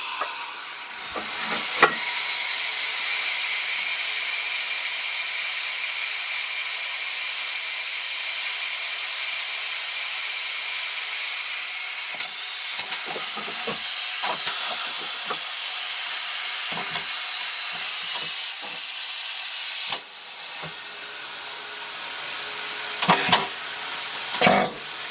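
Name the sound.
air compressor filling tire machine with air, hissing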